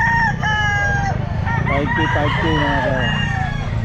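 Roosters crow repeatedly amid constant clucking from a crowded flock at a pet market, and someone briefly speaks over the noise near the end.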